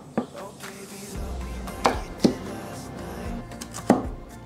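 Knife dicing taro on a cutting board, a handful of sharp, close chops spaced irregularly over a quiet background, with no talking.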